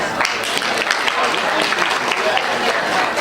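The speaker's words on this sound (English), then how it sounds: "If you can hear me, clap your hands." Conference audience clapping hands, a scattered, moderately loud burst of applause with crowd murmur and voices mixed in.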